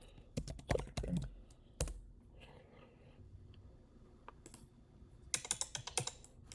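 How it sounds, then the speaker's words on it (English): Clattering keyboard typing in irregular bursts of quick keystrokes, with a quieter pause in the middle before a final rapid flurry. "I want to add some typing sounds to it"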